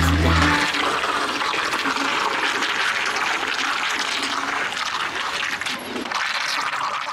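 Strong current of the Bagmati river rushing at the Teku confluence, a loud, steady broadband wash of churning water that holds evenly and close for the whole stretch.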